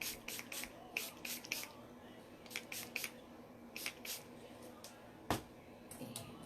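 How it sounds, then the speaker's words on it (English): Bursts from a spray bottle of thermal active setting spray misting onto hair during heat styling, a series of short, close hissing puffs in uneven clusters over a faint background hum. "once more spraying with the Thermal Active Setting Spray"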